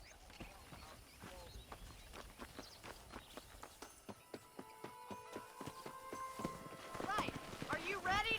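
Horse hooves clip-clop at a steady walking pace in the Red Dead Redemption video game, a close, regular train of hoof strikes on open ground with game music and ambience underneath, growing busier toward the end.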